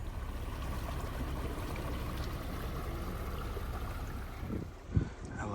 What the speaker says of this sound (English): I love driving through the rivers.